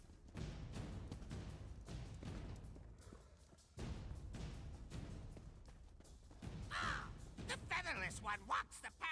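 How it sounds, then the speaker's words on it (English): Crows caw in The Elder Scrolls Online, a run of harsh calls near the end that rise over a busy game soundscape of music and low thuds, with voices speaking throughout. "Pay the crows no mind. They're nothing but an annoyance."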